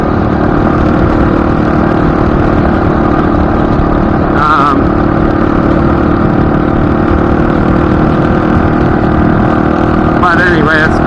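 A stock motorcycle with very high mileage running steadily, a loud, continuous engine drone close to the microphone, with a couple of brief higher whines and a voice talking over it.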